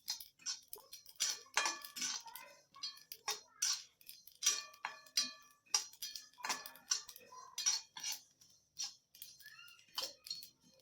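Sesame seeds (til) roast in an already hot kadhai, popping and crackling in quick, irregular bursts of sharp ticks over several seconds, close by and fairly quiet.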